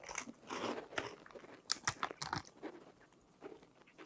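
Close, crisp crunching of a deep-fried brown sugar snack from a Japanese convenience store, with sharp irregular bites followed by quieter chewing that fades toward the end.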